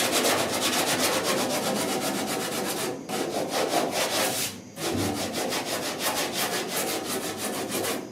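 Coarse 36-grit sandpaper on a sanding block scrubs steadily across body filler on the dash and firewall of a 1966 Ford F100, a continuous loud rasping stroke with two brief pauses.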